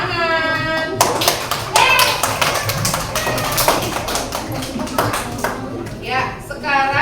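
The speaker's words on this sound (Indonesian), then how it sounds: "Tepuk tangan." Primary school children in a second-grade maths class clapping their hands in scattered bursts of sharp claps, close and loud, mixed with children's voices and a teacher speaking.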